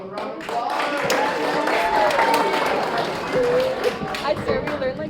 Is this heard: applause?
yes